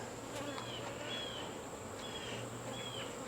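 Honey bees buzz steadily at close range over an open hive, a continuous droning hum with individual insects whining past now and then.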